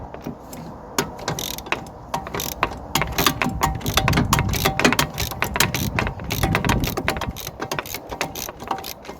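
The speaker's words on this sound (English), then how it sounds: "There's only just enough room for my ratchet spanner there." A ratchet spanner clicks rapidly and steadily while turning a front suspension nut on a Vauxhall Astra J, in continuous close, loud bursts with no talking.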